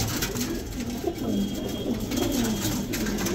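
Many Gardaan pigeons, males crowded inside a net cage, cooing steadily in overlapping soft rolling calls at close range, with no talking.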